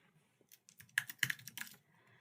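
Typing on a computer keyboard during video-editing work, a quick burst of close, crisp key clicks clustered in the middle with quiet moments before and after.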